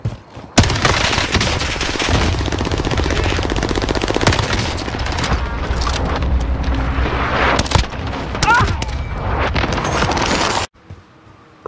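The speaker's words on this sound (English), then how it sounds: "I just put an airstrike in to help you out." Dense, continuous automatic gunfire and booming airstrike explosions from the Warzone battle royale video game pound for about ten seconds, then cut off abruptly into near silence.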